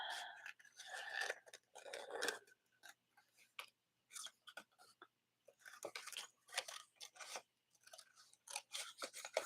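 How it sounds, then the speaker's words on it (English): Scissors cut through paper for a handmade card, a close, quiet series of crisp snips and slicing rasps in uneven bursts with brief pauses. "I'm just going to cut this across so I don't have to finagle with this whole thing."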